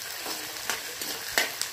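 Onions frying in hot oil in a pan, a soft steady sizzle broken by a few louder scraping stirs, close and alone with no talking.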